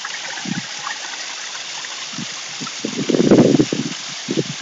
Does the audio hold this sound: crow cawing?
no